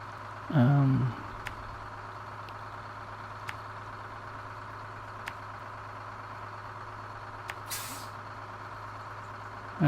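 A heavy truck in the game Snowrunner idles with a steady low engine drone while its air brake releases in a loud hiss near the start, followed by faint clicks and a softer hiss later, with no talking.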